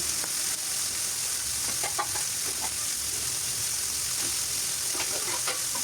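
Chicken pieces frying in a pan, a steady moderate sizzle with scattered pops and sharp crackles spread through it.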